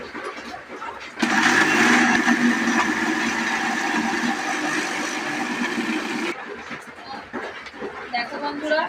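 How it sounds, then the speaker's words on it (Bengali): A kitchen mixer grinder blends cake batter into a paste, a loud steady whirring drone that starts abruptly and cuts off after about five seconds, with faint talk around it. "আর একবার এটাকে মিক্সার দিয়ে পেস্ট করবো"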